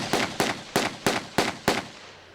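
Six sharp, loud Glock pistol shots fired without a silencer on a film set, evenly spaced about a third of a second apart, each a hard crack with a short decaying tail and no talk between them.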